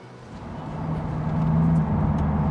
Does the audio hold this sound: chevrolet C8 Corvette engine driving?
yes